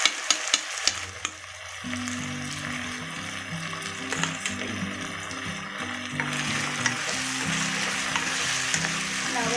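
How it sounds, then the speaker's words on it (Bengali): Chicken frying and being stirred in a pan for chicken pulao, a steady close sizzle with scraping stir strokes and occasional clinks, continuous and alone without talk. "এবার চিকেনটাকে আমি ভালো করে কষিয়ে নেব।"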